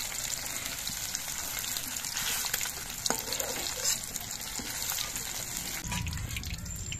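Amude fish fry in hot oil with a steady, close sizzle and crackle, a few sharper pops breaking through the bubbling hiss.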